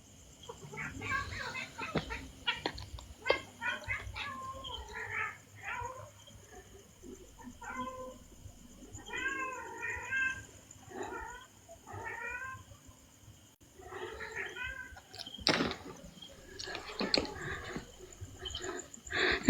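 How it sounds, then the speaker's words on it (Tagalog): An angry cat meows in a cemetery at night, a string of drawn-out, wavering yowls and growling cries, close and repeated, with some quieter talk and faint night sounds around them. "Nagagalit na yung pusa sa akin."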